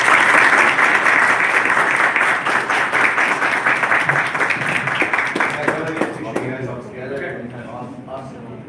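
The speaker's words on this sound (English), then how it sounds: "How about a round of applause again for the panelists?" Audience at a sports panel event tied to Super Bowl week in Miami applauds loudly and steadily, dense clapping that thins out toward the end while a few voices carry over it.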